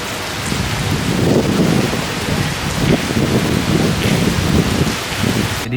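Heavy rain pours down in a dense, loud, continuous wash with rumbling low swells, steady throughout, with no voice.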